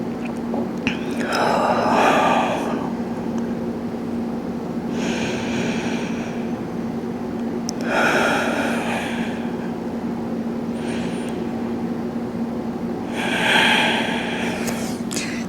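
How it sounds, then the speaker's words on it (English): Deep breathing during a Pilates stretch: several slow, airy inhales and exhales spaced a few seconds apart, close to the microphone over a steady background hum. "Hold here 3 deep inhales and exhales."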